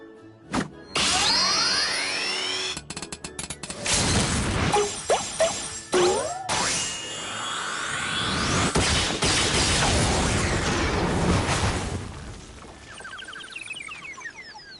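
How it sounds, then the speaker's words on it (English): A hammer smashes away in Final Fantasy XIV amid a loud, chaotic burst of crashes, clangs and whooshing game effects with rising and falling tones, fading out near the end. "Bigrad, guide my hammer."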